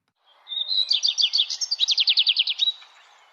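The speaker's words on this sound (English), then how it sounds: "Sweetie flew over the line and started to chirp." A cartoon bird chirps in a rapid run of bright, repeated tweets lasting a few seconds, clear and close with no other sound around it.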